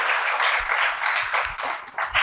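A room full of people clapping together, steady and moderately loud applause lasting a couple of seconds.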